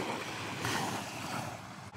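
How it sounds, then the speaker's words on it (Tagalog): Small waves break close by on the shoreline of Barangay Bugko in Mondragon, Northern Samar, a brief, continuous foaming wash of surf with some wind noise. "Bumabasag yung alon na yan."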